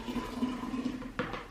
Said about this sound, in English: you pour your coffee in your container